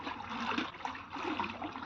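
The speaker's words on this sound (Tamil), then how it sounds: "மீனை தண்ணியில் கொட்டி கழுவிக்கலாம்" Fish being washed in water: soft splashing and trickling as the fish are tipped in and rinsed, a continuous close but fairly quiet watery churn with no talk.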